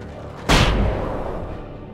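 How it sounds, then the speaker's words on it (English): A flashbang goes off in the video game Alan Wake: one sudden loud bang with a harsh broadband burst that decays into a long ringing rumble over about a second and a half. "I'm throwing flashbang."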